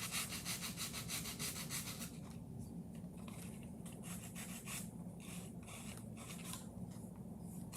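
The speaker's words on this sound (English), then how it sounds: "I'm going to take a little bit of sandpaper, sand where, right there, because you want to get it smooth" Sandpaper rubbed by hand over a moulded flower pot surface, a steady close scratchy rasping that runs continuously, brighter and harsher at first then settling into a softer rhythmic scrubbing.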